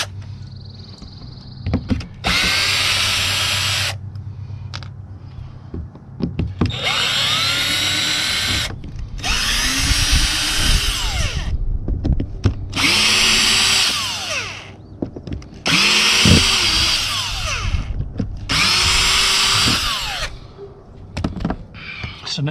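A power drill removes screws from a cracked, busted camper roof skylight, running in six loud whirring bursts of a few seconds each, with short pauses and clinks in between.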